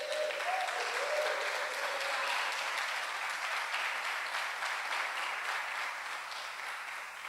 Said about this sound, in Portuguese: aplaudam a Deus, queridos